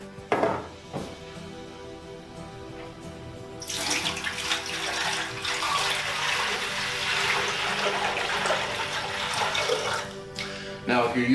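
Tap water pours into the basin of a Sirena water-filtration vacuum cleaner, a few knocks followed by a sustained splashing rush that lasts for several seconds before tapering off.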